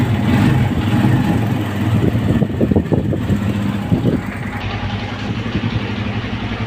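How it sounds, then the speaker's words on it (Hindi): A Suzuki GS 150 motorcycle engine idles steadily up close, a continuous throbbing hum with light mechanical ticking and no talking. "हमारी बाइक जो है वो स्टार्ट हो गई है।"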